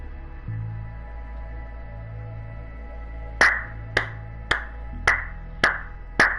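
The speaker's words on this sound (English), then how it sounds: "Slow clap for a great ass game." Six slow, evenly spaced claps ring out in the Cyberpunk 2077 video game, starting partway through over a low ambient hum and background music, each clap sharp and fairly close with a short echo.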